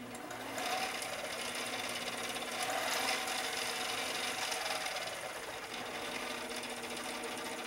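Faulty electric motor controller running a motor with a steady mechanical whir and rattle whose pitch gently rises and then falls as it speeds up and slows down, fairly quiet, with no talk.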